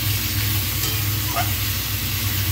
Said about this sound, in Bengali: ফুলকপিটা দিয়ে একটু নাড়িয়ে নিয়ে একটু জল দিয়ে দেবো